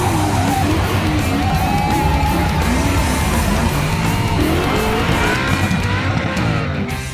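A drift car spins out with loud, sustained tire squeal and a revving engine, close and continuous with no talk.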